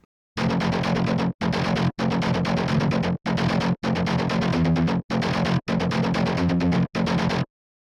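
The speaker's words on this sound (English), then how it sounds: "If we switch back over to palm mute," Sampled guitar in riff mode with palm-muted articulation chugs through a tight, repeating distorted pattern of choppy bursts separated by brief silences, loud with no voices.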